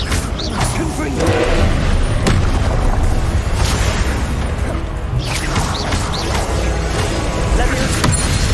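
Blasting spell explosions in the Hogwarts Legacy video game, a dense barrage of booms, crashes and mechanical clatter repeating throughout, loud and close, with a voice calling out over the noise.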